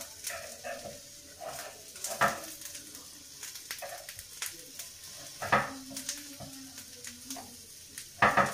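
Food roasting in a pan gives a soft, steady sizzle with crackles, scattered sharp clicks and occasional stirring knocks, quiet and close, with no talking.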